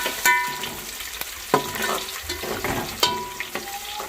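Chopped ginger drops into browned onions frying in a pan for khichuri, giving a steady close sizzle broken by several sharp clinks and stirring scrapes, with no talking.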